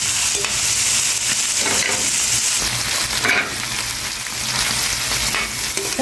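Mussels stirred and sautéed in a pan with oyster sauce and pepper give a steady, close sizzle with scraping stirs throughout, and no voices are heard.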